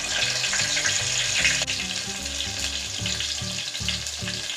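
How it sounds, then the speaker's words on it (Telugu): Crushed garlic sizzles loudly in hot tempering oil with mustard seeds, a steady close frying hiss with occasional stirring. "తాలింపు గింజలు వేసుకున్న తర్వాత అందులోనే ఈ విధంగా దంచుకున్నటువంటి వెల్లుల్లిపాయలు వేయాలి"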